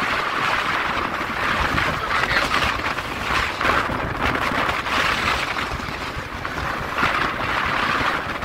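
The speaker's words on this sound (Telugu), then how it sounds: "గాలి విపరీతం." Steady, strong wind roars and buffets continuously across the open white salt desert of the Rann of Kutch, with rushing gusts swelling and easing throughout and no voices.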